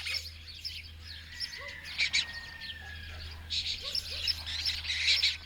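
Wild birds calling around the town of Matera, where pigeons, jackdaws and lesser kestrels gather, with scattered chirps and harsh calls at middling distance over a steady low hum.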